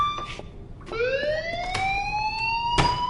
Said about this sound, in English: Do you hear that fire alarm?